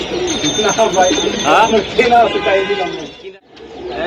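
Pigeons for sale coo and warble nearby while people talk loudly over them.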